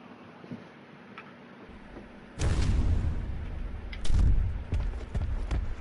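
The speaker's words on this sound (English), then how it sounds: "Who's that shooting now?" Gunfire in the video game Ark: after quiet ambient ticking, sharp loud shots burst out, first one heavy report, then another strong blast and a few smaller cracks, close and without talk.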